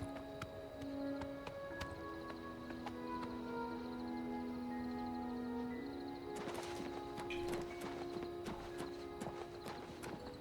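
Horse hooves clip-clop at a steady walking pace in Oblivion Remastered, with a low, moderately near beat and a busier stretch of hoof strikes toward the end, set against ambient game music.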